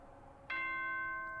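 A bell-like announcement chime from the video game Danganronpa 2: Goodbye Despair, a single struck tone that rings on with sustained overtones, moderately loud and clear over faint background music.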